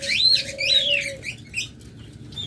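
A pair of rainbow budgerigars chirps close by, with quick high warbling notes in short bursts and a brief sustained tone under the first second, then scattered chirps fading.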